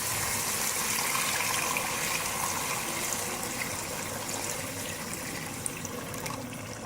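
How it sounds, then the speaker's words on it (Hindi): Water, about three glasses, poured into a pot of frying green moong dal, a steady, close gushing splash with fizzing and bubbling that holds constant throughout. "अब इसमें हम पानी शामिल करेंगे।"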